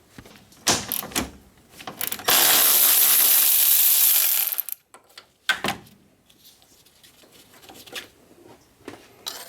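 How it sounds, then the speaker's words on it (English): A ratchet works the 12mm bolts off a car's upper radiator mount, with close clicking bursts, a sustained rasping stretch, and scattered metallic knocks and clunks. "So I'm gonna remove these two 12mm bolts."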